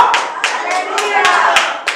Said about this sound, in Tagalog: Pinapalakpakan po yan.